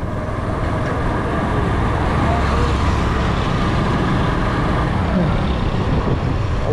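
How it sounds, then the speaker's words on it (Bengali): Steady heavy road noise from a traffic jam near a bridge, with trucks, cars and buses idling and crawling close by in a continuous loud rumble, voices faintly mixed in. "আমি জানি না আসলে কতক্ষণ ধরে এখানে গাড়ি ঘোড়া আটকানো"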